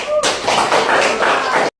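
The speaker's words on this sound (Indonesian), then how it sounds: "Tepuk tangan." Schoolchildren in a classroom clap together in a short, lively burst of loud, close hand claps lasting over a second before cutting off abruptly.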